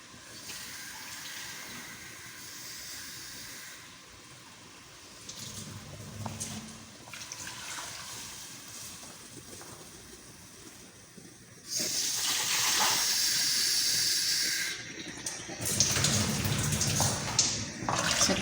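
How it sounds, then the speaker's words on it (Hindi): Water pours in steady streams into a cooking pot of Afghani Kabuli pulao stock, splashing for a few seconds at a time, with quiet kitchen clatter between the pours. "इसमें पानी ज़्यादा डालेंगे"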